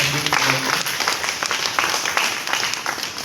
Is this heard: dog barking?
no